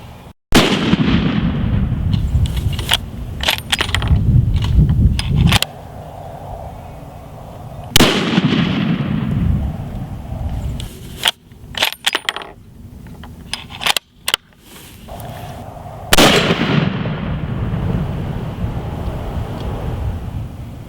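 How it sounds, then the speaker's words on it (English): Mossberg ATR 100 rifle in .270 Winchester firing at an outdoor range, a few loud sharp shots each followed by a long rolling echo, with clicks and handling noise between them. "we shot our three round group"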